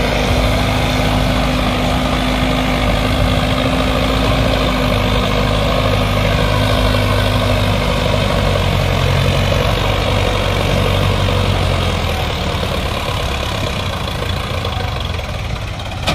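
Tractor engine labouring to pull out of deep mud, a loud, steady low rumble held close for the whole stretch with slight shifts in pitch as it strains, with no talking over it.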